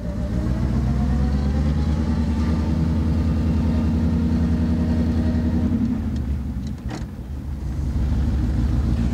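A 1932 Duesenberg dual-cowl phaeton's engine runs steadily and loud up close, a deep continuous rumble with a brief dip in level near the end.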